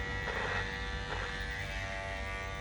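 Freshly oiled barber's electric hair clipper running in a steady, even buzz, close and alone, with no talking.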